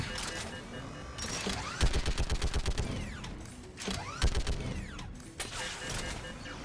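A turret gun firing in a video game, rapid rhythmic bursts of shots in two clear volleys over busy mechanical game noise, close and loud.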